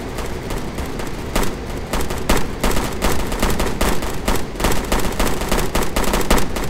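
Rapid gunfire from a military shooter game patrol, dense bursts and sharp single cracks including a sniper shot, loud and continuous throughout with no talking.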